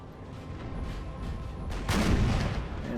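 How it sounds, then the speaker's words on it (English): Cannons fire in a Napoleon: Total War battle, with distant booms rumbling under battlefield clatter and one heavier blast swelling about two-thirds of the way through. "they have at least 8 cannons trained on them right here"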